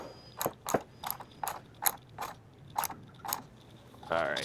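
About ten evenly spaced ratchet clicks ring out close by while the bracket for a hood lift strut is tightened on a Jeep JL/JT, followed by a short rustle at the end.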